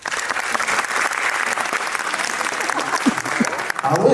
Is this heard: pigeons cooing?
no